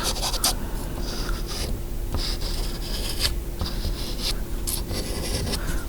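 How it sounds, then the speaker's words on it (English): A white pencil scratches and rubs steadily across paper on a collage, a close, continuous dry scraping with short strokes and no voices. "And then I've used my white pencil"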